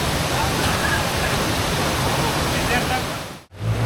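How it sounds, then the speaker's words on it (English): Fast-flowing river rapids roar in a loud, continuous wash of broadband noise, with a brief dip just before the end. "we're now heading back down through these rapids"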